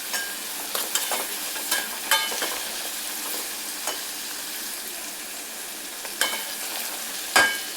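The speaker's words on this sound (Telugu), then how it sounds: "ఉల్లిపాయలు అన్నీ వేసుకున్నాం కదా, కొంచెం కలుపుకుందాము. కరివేపాకు వేసుకుందాము." Onions and curry leaves fry in a pan with a steady close sizzle, punctuated by repeated scraping strokes of a spoon stirring them, with no voices.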